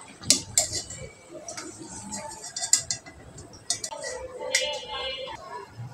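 Watermelon puris being lifted out of a frying pan, with sharp metallic clinks and taps of a utensil against the pan scattered irregularly over a soft background bed, close by.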